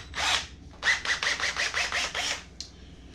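Power drill with a half-inch bit boring into wood for a marble holder jig, close and loud in short pulsed bursts, one brief whir followed by a rapid series of grinding spurts.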